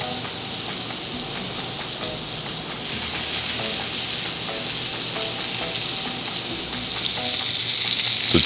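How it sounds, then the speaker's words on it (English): Food sears in a hot pan with a loud, steady sizzle and crackle that holds throughout and grows a bit more intense toward the end. "no more than a minute or two on this side to get a nice perfect sear"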